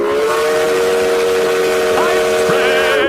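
A loud steam train whistle sounds as a sound effect for a livestream hype train: one sustained, shrill, multi-toned blast holding steady for about three seconds.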